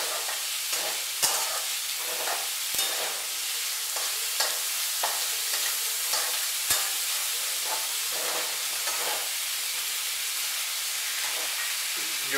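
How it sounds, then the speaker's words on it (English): Onions frying in a pan for kande pohe: a continuous loud sizzle and hiss, broken by frequent scraping and stirring knocks, close to the pan and with no talk. "Keep on shaking the onions so that they don't get burnt from down below."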